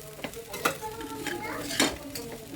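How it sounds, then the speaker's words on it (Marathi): A spoon stirs sabudana into roasted peanut powder in a pan over low heat, making a few distinct scraping and clinking strokes against the metal over a light background sizzle. "कूट दोन ते तीन मिनिट परतून झाल्यानंतर यामध्ये साबुदाणा घालायचा आणि मिसळून घ्यायचा"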